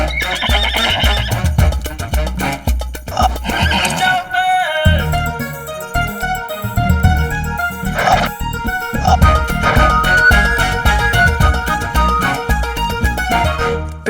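A horse whinnies and neighs repeatedly over a loud, dense bed of music, with clip-clop hooves faintly mixed in.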